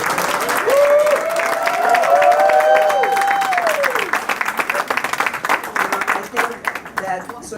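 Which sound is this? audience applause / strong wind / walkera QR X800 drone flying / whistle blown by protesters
audience applause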